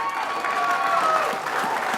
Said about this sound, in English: let's have a huge round of applause for the Sydney Chiefs